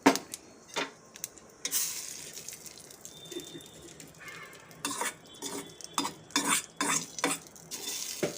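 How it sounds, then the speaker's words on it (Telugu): Mustard seeds, cumin, dried red chillies and curry leaves frying in a little oil for a chutney tempering, with stirring and scraping against the pan, soft crackles, and occasional clinks of a spoon. "కొంచెం నూనె వేసుకొని ఆవాలు జీలకర్ర ఎండుమిర్చి కరివేపాకు వేసి వేయించి చట్నీలోకి తీసుకోవాలి"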